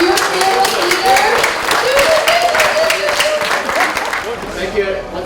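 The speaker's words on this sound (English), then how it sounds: "Round of applause." Audience applause at a safety training presentation: dense, steady clapping from a crowd with cheering voices mixed in, loud and sustained throughout before tapering slightly at the end.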